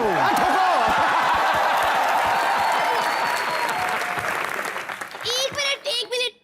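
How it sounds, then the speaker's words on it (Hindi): A studio audience of a Hindi comedy show applauds loudly, dense clapping fading out toward the end as a few voices break through briefly. "जोरदार तालियां मिकी मार्टिन के लिए"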